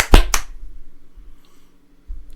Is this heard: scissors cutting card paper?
no